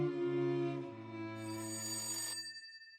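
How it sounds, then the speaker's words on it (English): An old-fashioned telephone rings, its bell-like tone sustained and steady for about two and a half seconds amid a faint tonal backdrop, then cutting off. The call comes to Arthur Scherbius, inventor of the Enigma cipher machine. "And then suddenly, Arthur Scherbius' phone begins to ring."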